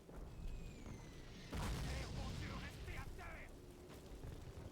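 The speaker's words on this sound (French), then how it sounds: "Lui, il s'est mangé la grenade du coup." A grenade goes off in Call of Duty (2003) during the American Normandy campaign: one sudden, loud, broad blast midway, trailing into rumble over steady battlefield noise, with faint voices around it.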